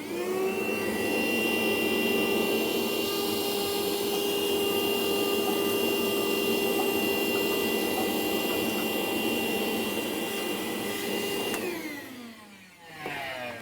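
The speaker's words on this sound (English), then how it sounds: "you can simply pull that trap door off, get in and vacuum out the firebox" Steady, loud whining roar of a vacuum cleaner sucking ash out of a pellet smoker's firebox, running continuously for about twelve seconds before winding down abruptly near the end.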